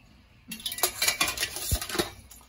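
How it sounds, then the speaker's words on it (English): A metal steaming tray set down on a pot for steaming live crab gives a quick cluster of close, bright clanks and rattles that settle over about two seconds. "Now I'm gonna place the steaming tray on top."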